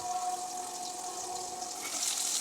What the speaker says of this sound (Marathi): कांदा भाजून झाला की त्यामध्ये टोमॅटो तो छान परतून घ्यायचा